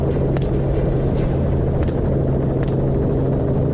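A helicopter in flight during a coyote hunt gives off a steady low rotor drone with a throbbing hum. It runs unbroken and fairly loud the whole time, with faint higher whooshes now and then.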